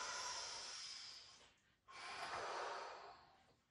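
A person takes a deep breath during a workout stretch: one long airy inhale, a short pause, then a strong, breathy exhale, close and fairly quiet.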